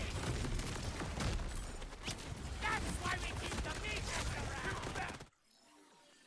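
Sticky grenades detonating in the video game Borderlands 4, a dense burst of loud overlapping blasts and clattering gunfire-like pops under game noise, cutting off abruptly into near silence.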